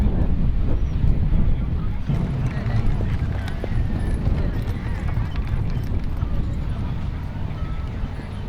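Hackney pony hooves clip-clop in a steady rhythm under blustery wind noise during carriage driving, with a voice talking over it.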